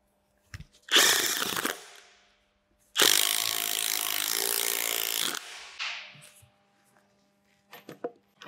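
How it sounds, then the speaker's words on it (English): A Hilti Nuron cordless impact wrench sets a mechanical anchor in two loud bursts of rapid hammering, a short one then a longer run of about two seconds, with light clicks of handling around them. "I will use the same battery to anchor, a mechanical anchor, with our impact wrench"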